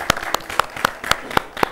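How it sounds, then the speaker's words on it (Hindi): Applause for a judge at an awards show honouring women farmers, heard as about eight evenly spaced, crisp claps in a steady rhythm, close and fairly loud, with no talk over them. "हम स्वागत करते हैं डॉक्टर बलदेव सिंह जी का, जोरदार तालियां डॉक्टर बलदेव सिंह जी के लिए।"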